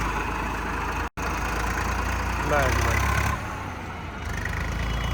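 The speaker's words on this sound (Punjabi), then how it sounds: "ਸੋਨਾਲੀਕਾ ਦੀ ਆਈ ਚੱਲਿਆ ਜੀ ਆਪਣਾ ਹਿਆਰਪੁਰ" Sonalika 740 tractor engine runs at a steady idle, a continuous low, throbbing drone with a brief dropout and a slight swell before settling, while someone speaks briefly over it.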